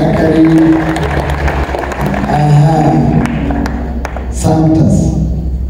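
Wedding guests at a church ceremony break into sustained, dense applause, a steady wash of many hands clapping that swells briefly near the end.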